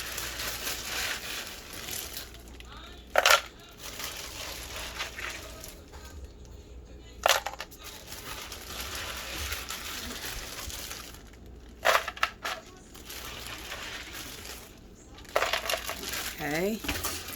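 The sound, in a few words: ice being added for a smoothie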